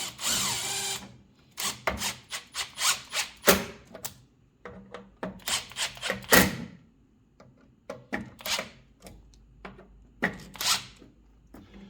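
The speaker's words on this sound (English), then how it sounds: "Once you get the screw holes lined up, you can run your screws in, snug them up." Screws are run with a power driver into the plastic housing of a welder's cooling fan, heard as a series of short, close whirring bursts separated by pauses, with clicks and handling noise between them.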